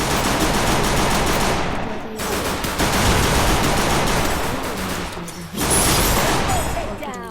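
Video game gunfire, likely Free Fire, with a player pushing rank using only a pistol: dense rapid bursts of shots in loud close volleys, broken by brief pauses, with a voice talking over the action.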